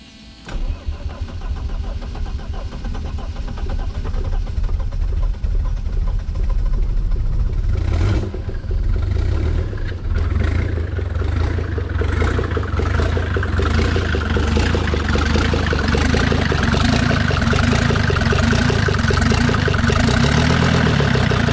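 Mercedes OM605 diesel engine cranking after a quiet start, then catching with a loud rough clatter and settling into a steady, rattling diesel idle, close and alone.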